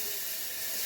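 Tomatoes hit hot oil already crackling with curry leaves and chillies, giving a loud, steady sizzle and hiss for under a second.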